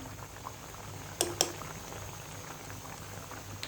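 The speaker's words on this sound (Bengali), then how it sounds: "বলক উঠে গেছে" Fish curry broth boils in a covered pot with a faint, steady bubbling, broken by two quick metallic clinks partway through.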